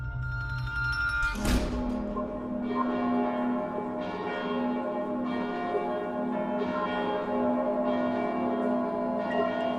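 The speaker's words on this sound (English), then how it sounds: "leads to really loud bells ringing outside" Loud church bells toll in a slow, regular rhythm, each strike ringing out with a long resonant hum that overlaps the next.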